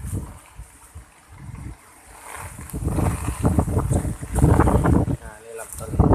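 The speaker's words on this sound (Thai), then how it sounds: "ลมแรงมาก" Strong storm wind from Typhoon Pabuk gusts and roars in the open near fruit trees in Nakhon Si Thammarat, Thailand, building louder in surges, with a voice talking over it at times.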